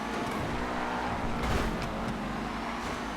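Constant loud engine roar and road rumble from the Project Homecoming Rapid GT sports car racing in GTA FiveM, with a dense mix of tire and wind noise and no talk.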